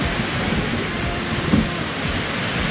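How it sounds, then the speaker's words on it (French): Steady, dense rush of a waterfall in volcanic terrain at Cascada del Agrio, a broad continuous roar with no breaks, heard from a short distance. "La cascade."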